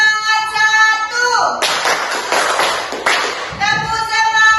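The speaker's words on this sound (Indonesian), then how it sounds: "kita tepuk semangat dulu ya, biar semangat" A group of children claps in a quick, rhythmic classroom cheer, with several dense bursts of clapping set between a sung or chanted voice at the start and end.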